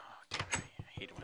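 A wooden door placed in Minecraft gives a few soft, short thuds and knocks, faint and close, in quick succession.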